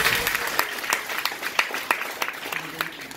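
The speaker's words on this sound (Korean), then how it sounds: "박수 한번 쳐드리면 어떨까요?" Scattered, uneven clapping from a small audience at a Korean sponsor meeting, with sharp individual claps standing out over a thin background of room noise.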